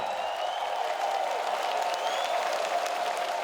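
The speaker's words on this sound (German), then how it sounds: "Herzlichen Applaus." Audience applause at a Cologne carnival show in 2014 after a comedy act, a steady, moderately distant crowd clapping that stays even throughout, with a constant tonal hum beneath it.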